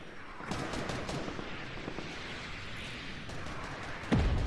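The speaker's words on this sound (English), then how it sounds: "Shoot it down, I'm sniping." Gunfire in Fortnite, a rapid series of faint sharp shots in a quick rhythm, then a louder close blast at the end.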